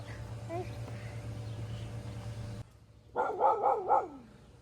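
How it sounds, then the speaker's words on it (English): A dog barks four times in a quick, fairly close, loud run after a stretch of household background noise. "Tell him to not bark."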